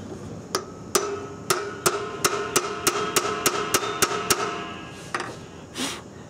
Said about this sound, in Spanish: voy a agarrar un punzón y le voy a dar en medio.